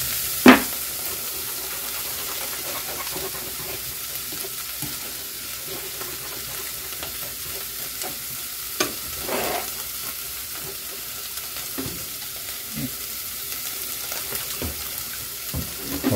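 A beef meat mixture for burritos sizzles softly in a pan and is stirred now and then, with faint scrapes and a few sharper knocks over a steady hiss, with no talking.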